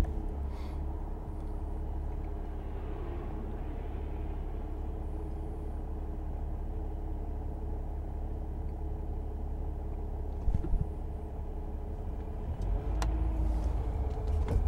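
A 2009 Mercedes E320 Bluetec diesel sedan with a boost problem drives along, a low, steady engine and road rumble heard from inside the cabin, fairly quiet, with a couple of brief thumps near the end.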